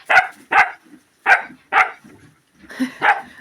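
A dog barks close by in a series of sharp, loud barks, about seven in quick succession with short pauses, with a brief whine between them.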